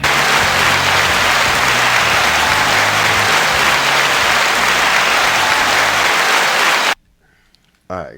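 Studio audience at a late-night style show gives a loud, sustained burst of clapping and crowd noise welcoming Conan O'Brien, steady for about seven seconds before cutting off abruptly, with a brief faint noise after.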